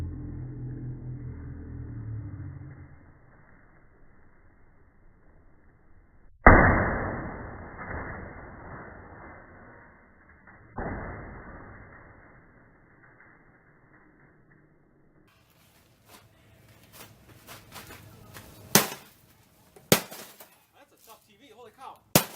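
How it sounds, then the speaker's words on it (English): A hammer strikes a 50-inch plasma TV in sharp, loud cracks, first one big smash, then a second hit, followed by several quicker, scattered impacts, with quiet talk early on. "Alright, grab a hammer and have at it."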